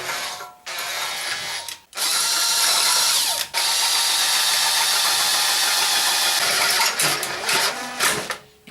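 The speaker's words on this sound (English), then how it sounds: "So the hole saw is on the actual plate now" A hole saw grinds through the exhaust baffle plate of a Yamaha MT-03, giving a loud, continuous, harsh whine in long sustained bursts with short pauses between them and no talking.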